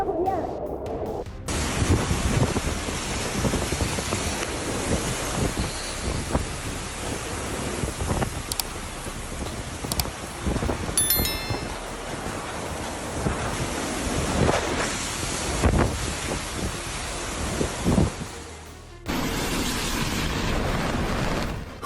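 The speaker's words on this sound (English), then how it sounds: "Typhoon Kraton slammed into southwest Taiwan with fierce winds, and intense rain." Typhoon winds and intense rain batter southwest Taiwan, a continuous loud roar of gusting wind and pounding rain with heavy buffeting on the microphone, lasting throughout.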